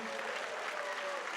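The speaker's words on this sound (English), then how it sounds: "Let's give a round of applause for all of the candidates that showed up today." Steady applause from an audience at a presidential candidates' forum in Shiprock, New Mexico, a dense continuous clapping that fills the whole moment at moderate distance.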